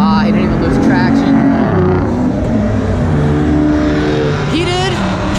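A Ford Mustang accelerates hard at a supercar show, its engine revving loudly with rising and falling tones as it passes close by, mixed with crowd chatter and voices talking.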